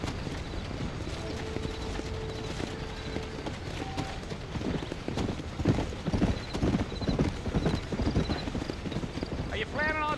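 Horse hooves clip-clopping at a steady trot in a Red Dead Redemption game scene, rhythmic and close, with a brief whinny near the end and a man's speech over parts of it.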